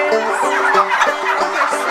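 Hybrid turkeys in an indoor pen gobble and cluck in a loud, close, overlapping chorus of rapid warbling calls, with no voices over them.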